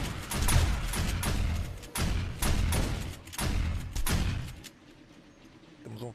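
Heavy shotgun slug blasts in the zombie survival game 7 Days to Die, fired during a horde attack on a base: a string of loud booming shots in quick succession, then a quieter tail.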